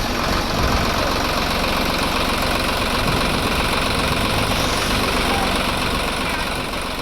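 Tractor engines rumble together at a farmers' protest rally heading toward Delhi, a dense, continuous idling drone with heavy low vibration and no pause.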